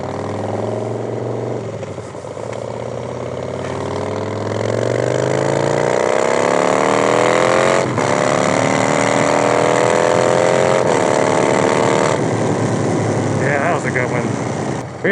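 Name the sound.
Harley motorcycle engine during clutchless shifting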